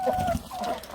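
Backyard chickens clucking close by, a few short throaty clucks and a brief higher call in quick succession, heard without talk.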